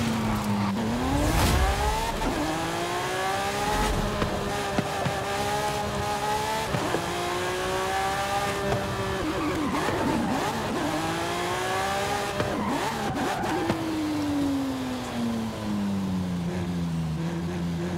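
Racing car engines howl in Forza Horizon 5 as a Lamborghini Sian Roadster runs head-to-head against supercars. The loud, continuous engine notes swoop up and down in pitch through gear changes, with brief tire squeal and no talking.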